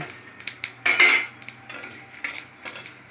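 A spoon stirring cumin seeds and a dried red chilli in hot oil in a pot: a run of close metallic clinks and scrapes with only a faint sizzle and no talking.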